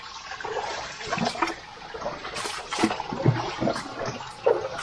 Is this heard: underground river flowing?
yes